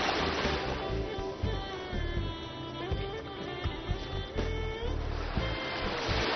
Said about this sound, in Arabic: سامعين معي أو صوت الموج بنادي